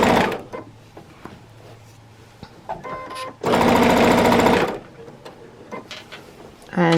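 A sewing machine zigzag-stitches a jelly roll quilted tote bag, with one loud sustained run of close mechanical whirring in the middle, surrounded by quieter handling clicks and rustles and a faint voice.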